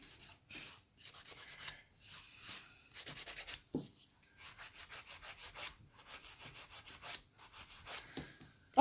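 Repeated short back-and-forth strokes of a 180 grit file shaping acrylic nails, with steady rhythmic scratchy bursts, brief pauses between sets, close and fairly quiet.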